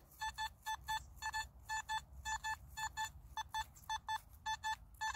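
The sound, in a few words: Simplex metal detector target signal tone at full sensitivity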